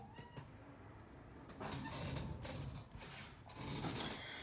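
An indoor cat meowing, several drawn-out cries in a row, close and fairly loud over a quiet room background, with no speech.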